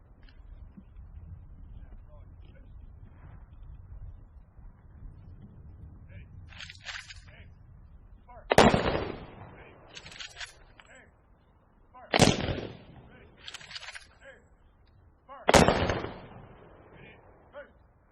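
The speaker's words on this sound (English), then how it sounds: "Rifle team, fire 3 volleys!" A rifle team firing three ceremonial volleys at a public ceremony, three loud booming reports spaced a few seconds apart after a quiet stretch, each followed by clicks of rifles being worked, with a voice heard earlier.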